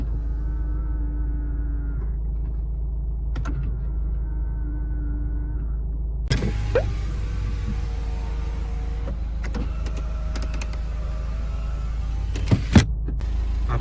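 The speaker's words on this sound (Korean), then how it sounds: "접이식 사이드미러," The electric folding side mirrors of a Renault QM3 small SUV give two steady motor whirs, each lasting a few seconds, followed by cabin rumble and a few sharp clicks near the end.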